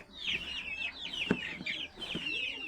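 Young gamefowl chickens cluck and peep softly up close, a quick run of chirpy calls with a few faint knocks underneath.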